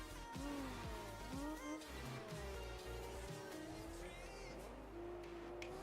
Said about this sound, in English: I think that's the car we hear behind.